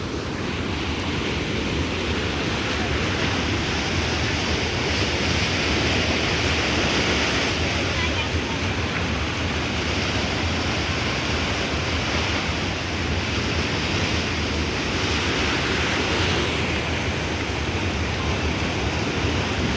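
Rushing floodwater in Nepal roars as a loud, steady, broadband wash of churning water that continues unbroken throughout, with no distinct voices above it.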